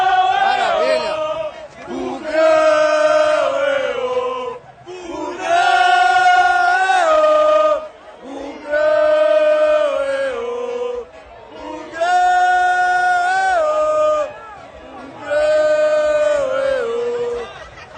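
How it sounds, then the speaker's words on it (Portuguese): Paraíba football supporters chant and sing in repeated loud surges, a massed crowd roaring in rhythmic bursts with brief lulls between phrases. "isso aqui, ó, é a recepção da torcida do Paraíba"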